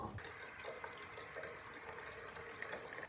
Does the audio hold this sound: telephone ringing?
no